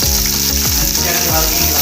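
Onions and mint leaves sautéing in a pan for restaurant-style egg biryani give a loud, steady sizzle with occasional stirring scrapes, continuous throughout with no talking.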